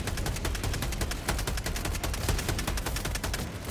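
Rifle gunfire in Helldivers 2 rattles out as a fast, steady run of sharp, loud shots that continues without pause through the whole stretch, with no talking.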